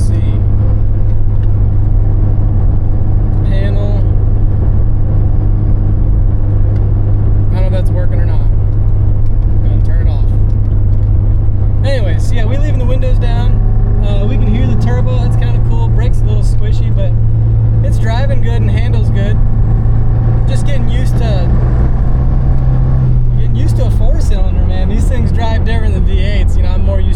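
Steady low engine drone and road rumble inside a moving turbo car with the windows mostly down, continuous for the whole stretch, with people talking over it.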